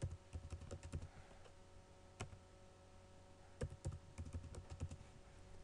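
Keys tapped on a computer keyboard while entering a password, a quick run of clicks, a pause, then another burst of typing, fairly close and quiet with no talking.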